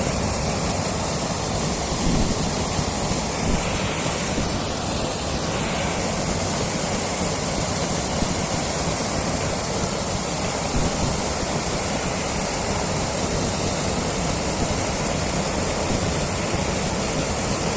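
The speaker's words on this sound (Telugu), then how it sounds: "చిన్న వాటర్ ఫాల్ కనిపిస్తుంది కదండి" Small waterfall fountain pouring from the matted locks of a Shiva statue, a steady broadband rush of falling water that runs unbroken at a constant level, with no voices over it.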